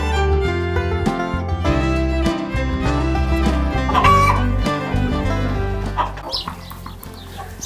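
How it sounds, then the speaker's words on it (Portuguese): Many hens cluck and squawk on a poultry farm, a dense overlapping chorus close by with a rooster-like call rising near the middle. "onde ficam as galinhas produtivas. Olha só, aqui tem, nas minhas contas, 51 galinhas"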